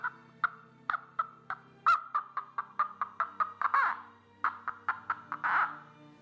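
A string drawn over a small resonance box makes a rapid train of short, squawking pulses that imitate a clucking hen, loud and close.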